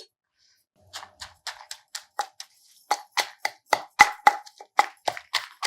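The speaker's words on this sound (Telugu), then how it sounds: "ముందు కొంచెం మిరపకాయలు అవి మెత్తగా నలిపేద్దాము." Repeated sharp pounding knocks in an irregular rhythm, a pestle crushing chillies in a mortar, close and fairly loud.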